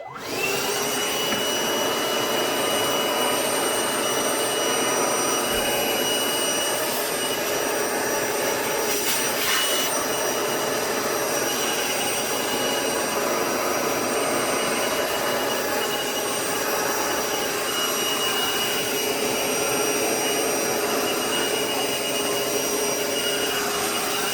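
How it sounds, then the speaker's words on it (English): A loud vacuum cleaner cleaning out a PS5 console runs steadily throughout with a constant high-pitched whine and roar, close by and uninterrupted. "let's vacuum this thing"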